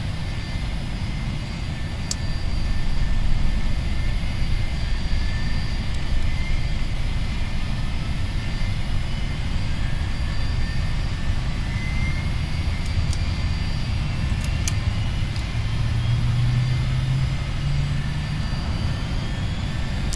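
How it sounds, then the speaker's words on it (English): A Learjet 25D's jet engines spool up in the FSX flight simulator, a steady roaring whine with a rising hum and occasional clicks, loud and continuous with no talking. "let's go ahead and get the engine started"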